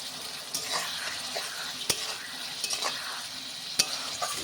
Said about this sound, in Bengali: মশলা দিয়ে এভাবে হালকা নাড়াচাড়া করে আমি এটাকে নামিয়ে নেব